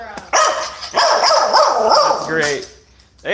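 A dog barks and yips repeatedly in close, loud bursts, with a person talking over the noise.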